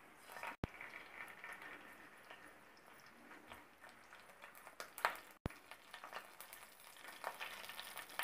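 Mustard seeds dropped into hot oil in a pan, giving a steady soft sizzle and crackle with scattered small pops, fairly quiet and close, no talking.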